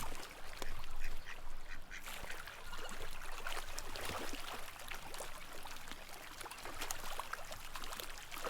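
A flock of ducks on the water quacks repeatedly over a constant background of flowing, trickling water. The calls are close and fairly loud, overlapping in an irregular chatter.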